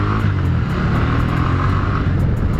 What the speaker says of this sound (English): the bike has a little bit of poke as well to get her up and running and going